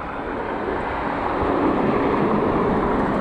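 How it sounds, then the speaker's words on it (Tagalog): Strong wind roars steadily across the microphone while cycling along a waterfront trail, a loud, continuous broadband rush with low buffeting gusts that never lets up. "Nakakalaspag itong hangin."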